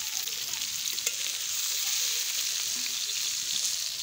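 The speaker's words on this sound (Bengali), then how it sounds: "পালং শাকের সবজি ভাজতে দিয়েছি, বেগুন আলু" Spinach, eggplant and potato fry in a pan set over an outdoor wood fire, a constant bright sizzle with an occasional soft stir, close and steady.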